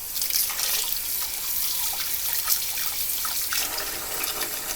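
Water runs from a sink tap as buttery hands are washed under it, a steady close rushing splash with small shifts as the hands move through the stream, no voices.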